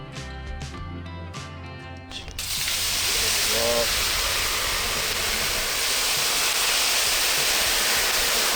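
Meat dropped into hot oil for outdoor frying over a wood fire, erupting into a loud, steady sizzling hiss that follows a short stretch of tonal background sound and persists to the end.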